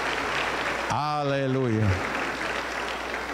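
Applause in a church service fills the whole clip as a steady broadband wash, while a voice sings or calls out a drawn-out word over it in the middle.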